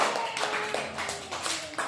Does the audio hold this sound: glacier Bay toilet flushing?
no